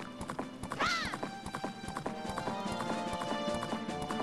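In the N64 game The Legend of Zelda: Majora's Mask, the horse Epona gallops with steady, rhythmic clip-clop hoofbeats, and a whinny sounds near the start.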